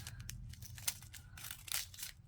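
Scissors snip through a plastic bead bag, a few quick, faint cuts with soft crinkling of the bag between them, close by and without talk.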